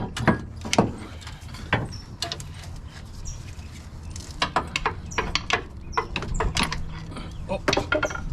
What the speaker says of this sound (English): Go ahead and get this axle pulled out.